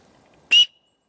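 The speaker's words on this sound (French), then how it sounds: "sifflet." A small survival-kit whistle gives one short, loud, shrill blast up close, cut off cleanly and followed by silence.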